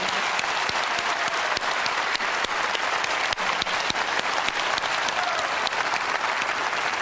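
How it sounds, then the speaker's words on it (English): An audience claps continuously in dense, sustained applause, loud and even throughout with no voices standing out. "let's just give him another round of applause"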